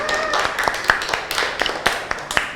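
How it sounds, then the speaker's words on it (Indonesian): Scattered hand claps in an Indonesian classroom as students applaud a classmate, a few sharp slaps standing out over background chatter and voices. "beri tepuk tangan untuk Fauza."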